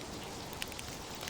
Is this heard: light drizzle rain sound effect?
yes